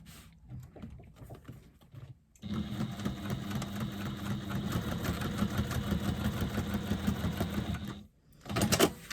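A sewing machine stitches across the top of a fabric bag in a steady, close mechanical whir lasting several seconds, starting after a brief pause and stopping before a short final burst.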